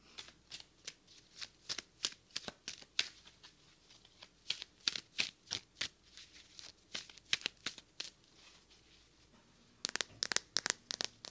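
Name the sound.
shuffling tarot cards for ASMR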